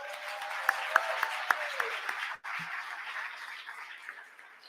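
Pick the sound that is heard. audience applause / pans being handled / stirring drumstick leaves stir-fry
audience applause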